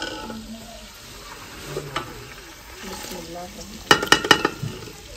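Onions go into a pot of white pilaf cooking over a wood fire, giving a soft, low sizzle with faint voices in the background, then a burst of sharp metallic clanks from a utensil near the end.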